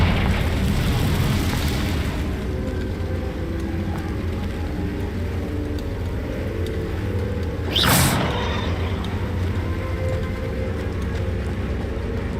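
A Confringo spell cast in the Hogwarts Legacy video game bursts as a single sharp, bright blast partway through, rising briefly over a steady rumbling game soundscape that carries on before and after it.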